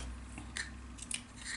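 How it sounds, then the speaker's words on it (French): Scissors snip through a piece of lace in a few short, quiet cuts close by, against a faint steady background hum. "je vais juste couper le morceau de dentelle"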